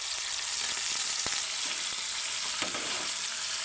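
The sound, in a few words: paneer frying in oil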